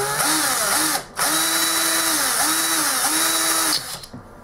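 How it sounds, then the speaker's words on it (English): A power drill fitted with a very small bit bores up into a ceiling toward the attic, whining loudly and close in repeated rising-and-falling bursts, with one brief pause partway through and a stop at the end. "I'm going to start off with a very, very, very small bit, and I'm just going to try and centre that up in there."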